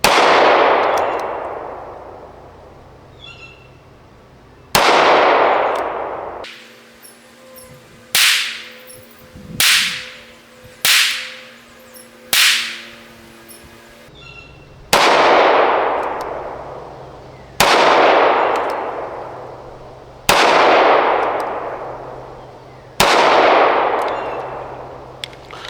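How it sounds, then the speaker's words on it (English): One-handed pistol shooting at steel targets outdoors: about a dozen sharp, loud shots, each followed by a ringing metallic clang. Slow single shots open and close the sequence, with a quicker cluster in the middle, and no voices. "one-hand shooting"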